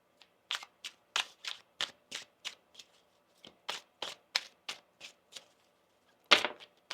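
A tarot card deck being shuffled by hand, a rapid series of crisp riffling bursts in a steady rhythm, close and clear in a quiet room, ending in one louder snap.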